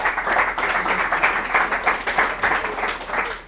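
Audience applause at a school competition show, a steady wash of many hands clapping for about three seconds with slight pulsing swells and no voices on top.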